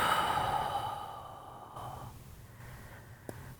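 A long, deep exhale during a morning mobility stretch, breathy and close, fading out over a few seconds and followed by a brief quieter breath.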